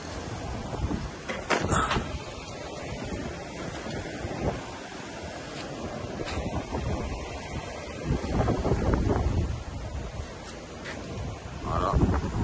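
Strong wind blowing in rainy weather at night, buffeting the microphone with a continuous rough rumble that surges louder in several gusts throughout.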